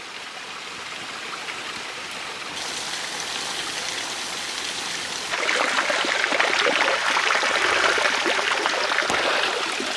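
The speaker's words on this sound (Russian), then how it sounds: "Видите, как красиво здесь вода стекает прямо по склону." Mountain water trickles and splashes steadily down a mossy slope in the Chechen mountains, a constant rushing hiss that grows slightly louder partway through.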